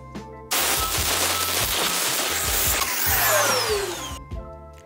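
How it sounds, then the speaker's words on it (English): A vacuum cleaner roars steadily for several seconds while sucking loosened, caked coffee buildup out of a burr grinder, with a whining motor, rattling debris and hose hiss, starting abruptly and cutting off near the end. "grab your vacuum cleaner and get it out of there."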